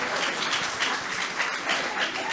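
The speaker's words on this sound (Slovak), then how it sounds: "potlesk" Studio audience on a Slovak TV entertainment show claps in a steady, moderate burst that holds evenly for a couple of seconds, heard from a slight distance.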